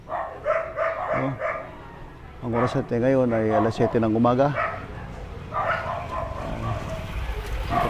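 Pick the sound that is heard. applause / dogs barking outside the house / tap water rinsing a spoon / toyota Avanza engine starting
dogs barking outside the house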